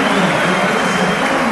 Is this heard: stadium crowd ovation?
yes